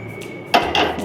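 A metal pot is set down on a lit stove with two quick clanks, close and sharp, over a faint background hum.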